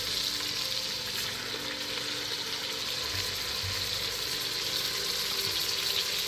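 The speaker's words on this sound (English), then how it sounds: "I have some butter in the pan already heated up. I'm going to get that nice sexy little sizzle there." Salt-and-pepper seasoned chicken sizzles in heated butter in a pan, a steady crackling fry that stays constant throughout with no talking.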